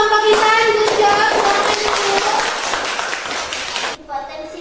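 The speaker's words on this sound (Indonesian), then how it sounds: "tepuk tangan untuk kelompok Intan" Class of schoolchildren clapping for Intan's group, a quick burst of brisk, close hand claps mixed with children's voices and a teacher talking, cutting off sharply near the end.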